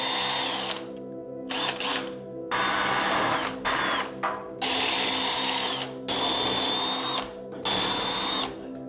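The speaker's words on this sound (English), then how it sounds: "So we're starting with the smaller size drill" A power drill with a small bit whirs in repeated short bursts, spinning up and stopping several times with brief pauses between runs, close and loud, during a basement railing install.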